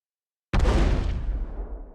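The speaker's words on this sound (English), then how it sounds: "An explosion." An explosion sound effect from a soundboard bursts in abruptly after a half-second of silence. It is one loud, deep boom whose rumble decays slowly over the next second and a half.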